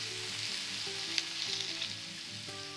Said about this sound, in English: So let's put in the vegetables. Mushrooms, the peppers, the broccoli, and I'm going to season that with salt.